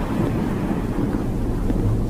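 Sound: rain and thunder in the horror video game Mortal Decay

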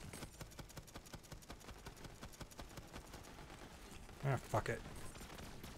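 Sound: gunfire from the new Moxie's gun in Borderlands 3 video game

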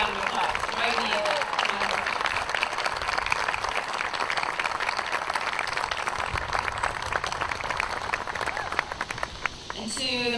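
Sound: applause

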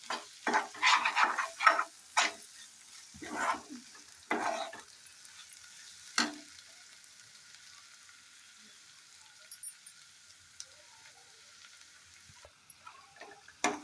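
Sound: stirring onions frying in a pan

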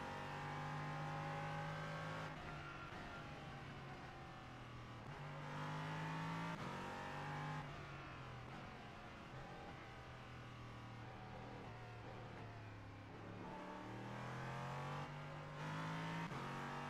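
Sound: race car engine in iRacing video game

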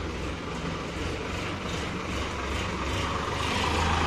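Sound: tractor driving off to the field

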